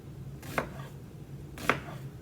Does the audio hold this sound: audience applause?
no